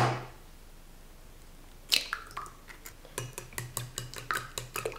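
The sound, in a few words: whisking eggs in a bowl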